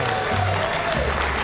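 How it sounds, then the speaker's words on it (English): Studio audience of a late-night talk show claps for a former Miss Vermont, a short burst of fairly even applause heard up close over a low room rumble. "Give her a nice round of applause."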